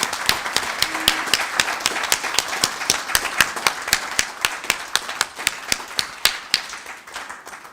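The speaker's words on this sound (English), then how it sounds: "Shall we give her a round of applause once again?" A conference audience claps for a speaker at a human rights event. The claps are distinct and fairly sparse, crisp and close, and keep up a lively patter for several seconds before thinning out slightly.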